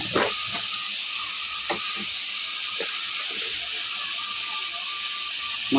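Water hits a hot pan of cumin and spices with a loud, continuous steam hiss that holds steady throughout. A few sharp clicks and knocks sound from utensils or the pan.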